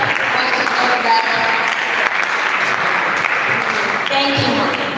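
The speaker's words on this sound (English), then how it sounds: "A round of applause." Dense, continuous applause fills an indoor hall at a food-week ceremony, a crowd clapping steadily and fairly loudly for the full five seconds with faint voices mixed in.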